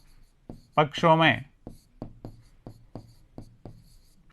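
A steady run of short, crisp strokes from writing on a board fills a maths class on simple equations, roughly two to three marks a second at close range, after a brief burst of a teacher's speech.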